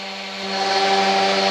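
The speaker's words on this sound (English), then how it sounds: "We're sanding up through the grits to 220." A power sander working through grits up to 220 on wooden plaques in a woodshop, giving a steady close whirring hiss with a faint motor hum that swells slightly and then holds even. No one talks.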